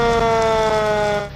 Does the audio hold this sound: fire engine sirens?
yes